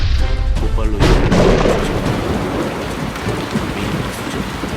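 Steady, loud rain sound effect with a few deep, thunder-like booms in the first seconds, set in a tense nighttime chase among shipping containers on the Seogwipo waterfront on Jeju Island.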